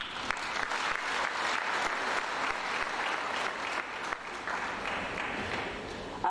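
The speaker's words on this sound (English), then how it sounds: "Another big round of applause for University of Zimbabwe, Vice Chancellor Professor Paul Mapfumo." Sustained, loud audience applause at a university event honouring a vice chancellor, a continuous roar of many clapping hands that carries on without talk.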